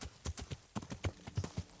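Horse hooves gallop in the video game Kingdom Come: Deliverance, a steady rhythm of dull clip-clop hoofbeats repeating about every quarter second at a moderate level.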